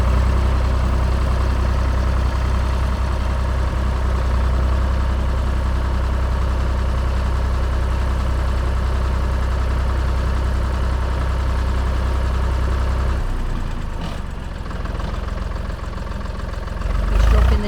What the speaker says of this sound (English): He's dropping the tiller back down now.